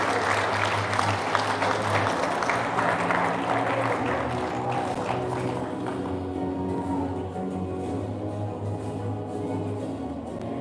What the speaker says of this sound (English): Let's again give a round of applause for Sergeant Eric F.M. Asanoma.